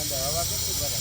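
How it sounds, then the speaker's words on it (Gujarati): A 15-litre pressure cooker lets off a long, steady whistle of hissing steam, close and continuous, while a voice talks briefly over it. "બાપા સીટી તો બહુ લાંબી આવેલી."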